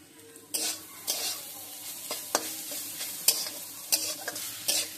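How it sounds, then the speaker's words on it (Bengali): Soybean and potato curry fries in a pan under a soft continuous sizzle, punctuated every second or so by sharp scraping strokes of a spoon stirring, close and fairly quiet. "আর একটু ভাজা ভাজা হোক।"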